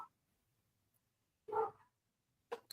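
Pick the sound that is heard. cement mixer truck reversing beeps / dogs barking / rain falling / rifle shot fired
dogs barking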